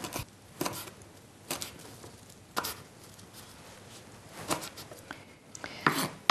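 A knife chopping a small handful of fresh rosemary on a board: a few sharp, separate taps, then a quicker cluster of cuts near the end, close and fairly quiet, with no talk.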